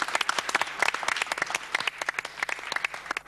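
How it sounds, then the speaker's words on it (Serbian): An evening event audience claps in thick, rapid, uneven applause that stays steady and close throughout the short burst. "Jedan aplauz za publiku."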